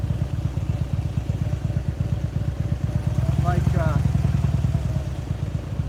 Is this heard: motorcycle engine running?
yes